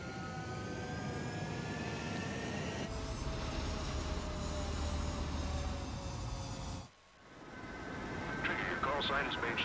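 Military jet aircraft roar on a runway as they take off in Ace Combat 7. A loud sustained engine rumble carries rising whining tones, briefly drops away, then swells again, while voices talk over it.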